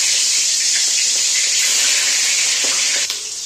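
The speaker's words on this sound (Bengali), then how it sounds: "এদিকে তেল গরম হয়ে গেছে, মাছগুলোকে এবার একে একে ছেড়ে দেব।" Fish rubbed with salt and turmeric sizzle in hot mustard oil, a loud, close, steady frying hiss that fills the whole stretch, with a few faint pops and a slight drop in level near the end.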